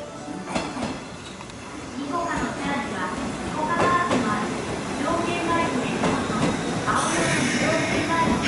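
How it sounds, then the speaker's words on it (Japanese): A JR 201 series train pulls into a station platform, its rumble and wheel screeches rising steadily over several seconds, with a brief sharp squeal near the end and people talking nearby. "201系が入線してきたよ"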